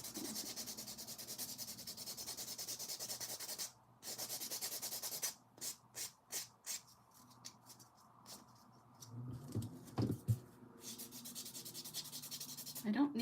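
A 100 grit nail file rasps back and forth as a glitter-coated nail is filed and reshaped, a close, continuous sanding scrape broken by brief pauses and a few short strokes.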